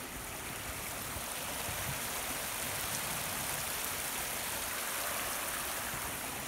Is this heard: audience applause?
no